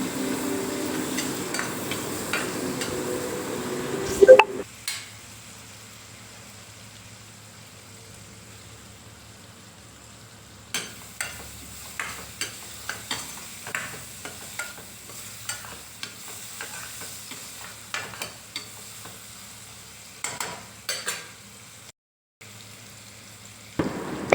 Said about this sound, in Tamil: இதே நல்லா ஒரு 2-3 நிமிஷம் நல்லா வந்து வதக்கி விட்டுக்கலாம்.